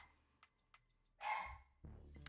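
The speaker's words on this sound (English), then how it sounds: "I gotta check on the dogs. They don't normally bark like that." Dogs in a home bark a few times nearby, some short muffled yaps and then a louder burst, with quiet room noise between them and no talk.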